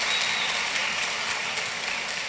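Dense, even applause from an audience at an evangelical gathering in São Luís, Maranhão, a continuous hiss of many hands clapping together at steady loudness with no voices over it.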